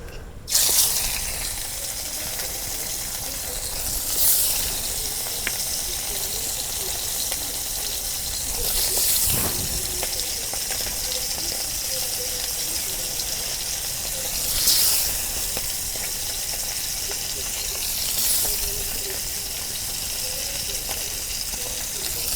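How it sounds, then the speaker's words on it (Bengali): Fish coated in spices and mustard oil frying in hot oil in a village Bengali kitchen, giving a steady close sizzle and hiss with occasional louder bursts of spattering. "এখন আমি মাছগুলো দিয়ে দিই তেলের মধ্যে।"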